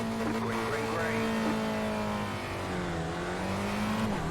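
Several race cars on iRacing's Lime Rock circuit accelerate together at the green flag start, engines climbing in rising, overlapping tones, loud and continuous with layered revs and a steady drone.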